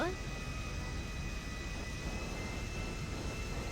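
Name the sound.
airplane engine in a video game (GTA nopixel)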